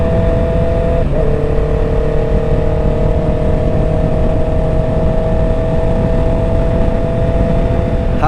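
A Honda CBR650R E-Clutch motorcycle engine idles steadily at close range, a continuous even drone with a brief blip near the start, with no talking.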